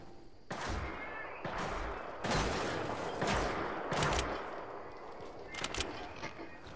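Rapid gunfire from a Fortnite match, several loud sharp bursts in quick succession, close and dominant with no talking.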